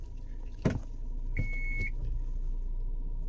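MG automatic car idling after a push-button start: a sharp clunk as the gear selector moves from park into drive, then a single short chime over a steady low engine hum.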